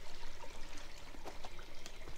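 Water trickling into a small village well at Cerne Abbas in Dorset, a continuous close gurgle and splash of running water with no voices.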